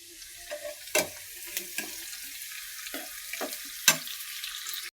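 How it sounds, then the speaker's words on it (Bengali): Potatoes fried and stirred in a pan make a continuous soft sizzle, broken by several sharp scraping and stirring knocks spread across the stretch. "আলুটা ভালো করে ভুনিয়ে নিয়ে"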